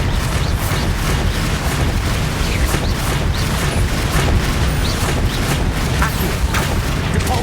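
Bombarda blasting spells and other combat magic exploding in Hogwarts Legacy, a dense, continuous run of booming blasts and rumbling impacts with no pause over the whole stretch.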